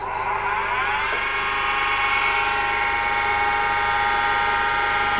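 A Warren & Brown valve grinding machine refacing a Toyota 1KZ-TE engine valve gives off a loud, steady high whine with a harsh grinding edge and a tone that slides briefly early on, heard alone.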